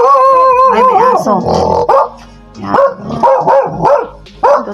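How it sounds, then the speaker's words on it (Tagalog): A dog near a riverside home gives several sharp barks and yips in quick bursts, loud and close, with some whimpering between them and a person's voice heard alongside. "Ay, may aso."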